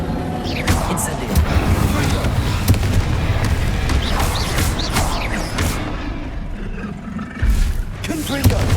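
Fire spells cast in the video game Hogwarts Legacy, loud booming whooshes and roaring fiery bursts that follow one another in quick succession, each with a crackling blast and a rumbling tail.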